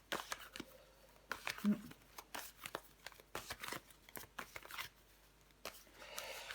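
Tarot cards are handled and laid out on a surface: irregular soft slaps, shuffles and brief papery clicks in quick clusters, close up and fairly quiet.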